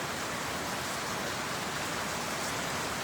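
Steady rain falls around a farm veranda on the Gasaudrau farm, a dense, even hiss of drops that stays constant throughout with no voices.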